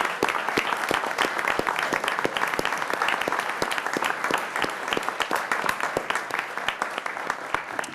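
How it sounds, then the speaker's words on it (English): A city council chamber crowd gives a steady round of applause at a council meeting, with sharp individual claps standing out in a dense, even patter that carries on without pause. "please join me in a nice round of applause recognizing this state"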